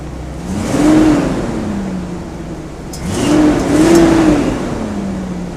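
A 1975 GMC motorhome engine fitted with new headers runs close by, rising twice into revs with a smooth whirring tone that then settles back to a steady idle, and no voices are heard.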